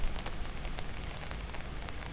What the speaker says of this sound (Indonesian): di tengah hujan yang rintik-rintik